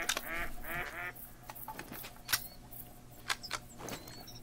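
Ducks in the hunting game Call of the Wild give a short burst of nasal quacks at the start, followed by faint scattered clicks and rustles over low ambient background.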